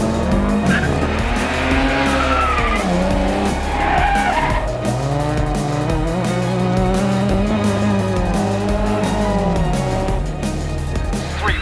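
Rally cars race side by side on a short 1.5 km sealed stage at Tailem Bend, engines howling loud and continuous with tyres squealing and skidding through the corners, no voices over the din.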